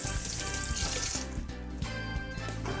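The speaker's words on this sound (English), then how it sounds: "Excuse me while I wash my hands quickly." Tap water runs steadily into a kitchen sink while hands are washed under it, a close, continuous splashing rush with faint clatter, no voices.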